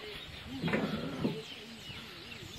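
Many birds calling at a lakeside resort in Kenya, a cluster of close clucking, warbling calls rising briefly in the middle over steady outdoor background noise.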